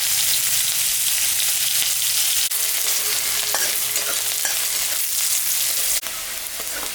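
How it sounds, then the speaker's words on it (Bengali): Onion sizzles in hot oil seasoned with cumin and dried chili, a dense, steady frying hiss heard close up, with a couple of sharp utensil clicks and no speech. "পেঁয়াজটা ভাজা ভাজা হয়ে গেছে"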